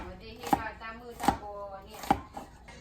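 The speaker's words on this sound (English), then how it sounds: "my mom repeat the same process of other onions to chop it up" Onions being chopped on a board with a knife, three sharp distinct chops and a lighter fourth, close and clear in a quiet kitchen setting.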